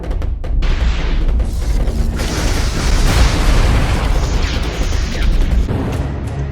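Massive tank explosion in the inFAMOUS video game, a loud sustained roaring boom with crackling debris and rumbling low end that fills several seconds without letting up.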